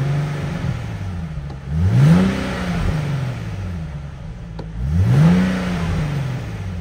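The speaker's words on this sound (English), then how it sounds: "And let's give it a couple revs." A 2016 Nissan 370Z Nismo with a stock exhaust revs twice from idle, each blip climbing sharply and falling back to a steady, close idle between them.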